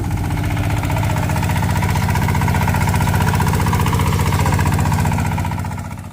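Single-cylinder farm tractor with air conditioning, used for spreading rice: a loud, close, steady rhythmic chugging that runs unbroken and eases off slightly at the very end.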